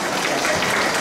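Audience applause at an annual dinner meeting of a Vietnamese community association, a steady dense wash of clapping filling the whole moment at close range.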